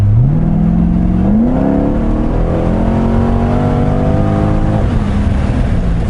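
A Corvette C6 Grand Sport engine revs hard under acceleration, its note climbing and then holding steady in a loud, close, continuous roar.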